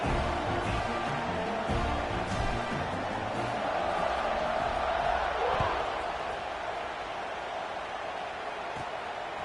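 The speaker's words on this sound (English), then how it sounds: "this crowd is buzzing after that last score" Stadium crowd murmur from a college football video game with Penn State, a steady broad roar filling the background throughout, with a faint thump or two and no clear cheering peaks.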